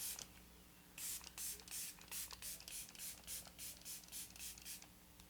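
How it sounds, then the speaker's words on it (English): Revolution Super Fix Super Hold misting makeup setting spray puffs out in a rapid series of about ten soft, close hisses after a few light handling scratches. "I am going to use the Revolution Super Fix Super Hold Misting Spray"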